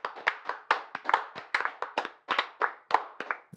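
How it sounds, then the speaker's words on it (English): Hand clapping from one or two people during a political podcast reacting to PMQs, a sparse run of distinct, uneven claps heard close and alone. "See, muted applause back there."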